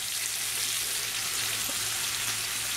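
Sea bass fillets pan-frying in garlic lemon butter give off a steady, even sizzle that fills the pan with dense crackling hiss, continuous and close, with no voices.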